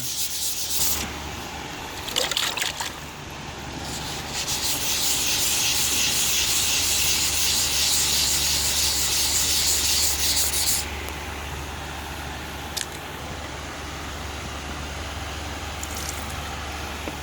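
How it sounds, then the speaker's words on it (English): Wet sanding car body work with 400 grit sandpaper: a steady, close rasping rub with a sharp brief stroke early on, then a long continuous scrubbing hiss that eases off. "we'll wet sand it with a 400 grit sandpaper"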